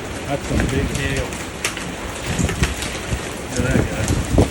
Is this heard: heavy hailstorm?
yes